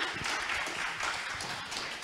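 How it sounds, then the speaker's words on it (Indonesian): Audience applause at an Indonesian talk event, a steady wash of clapping from a crowd lasting a couple of seconds at moderate level, with no voices over it. "Mungkin sekali lagi kita tepuk tangan untuk kita semua yang ada di sini"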